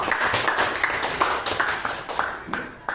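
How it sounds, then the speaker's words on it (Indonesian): Children in a classroom clap their hands in brisk, rhythmic bursts of sharp claps, loud and close, in a short rapid pattern with no talk. "Tepuk tangan untuk anak-anak ibu"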